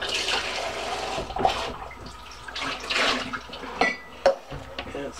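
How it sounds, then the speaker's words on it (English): Water runs and splashes into a lightweight heavy-duty aluminum ultralight camping pot, a continuous gushing pour with uneven surges and a few sharper splashes over about five seconds. "Let's see how much water it holds."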